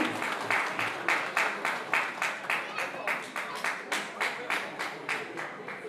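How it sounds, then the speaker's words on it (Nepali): A crowd applauding steadily, many hands clapping in a dense, rhythmic wash that pulses throughout, moderately loud and close. "जेसी किरण सुवेदी, कृपया तालीले स्वागत गरौँ"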